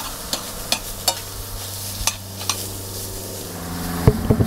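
Chicken breasts sizzle in a hot pan with sliced new garlic, a continuous frying hiss broken by occasional clinks and scrapes of a utensil, close and with no voices.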